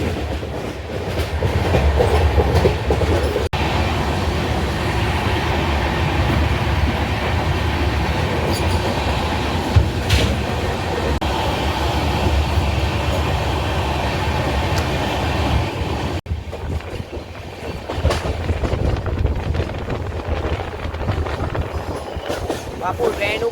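A Mumbai local train runs along steadily, its wheels keeping up a continuous rumbling clatter on the rails, with the noise settling slightly after the midpoint and no talk over it.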